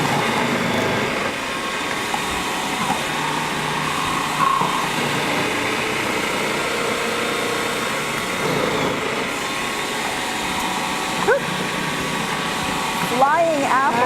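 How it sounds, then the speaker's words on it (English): A small food processor grating apples whirs with a steady motor drone for many seconds, with a few clicks and rattles, while people chat over it. "I love this little food processor. It's a great food processor"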